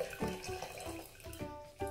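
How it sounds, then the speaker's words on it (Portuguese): Water pours into a sink drain being unclogged with cooking salt, gurgling and splashing in uneven bursts close by. "Vou dar bastante água que tem aqui mesmo"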